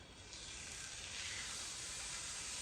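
A tomahawk steak sears in a hot cast-iron pan, giving a steady loud hiss and sizzle that swells just after the meat goes in and holds even throughout.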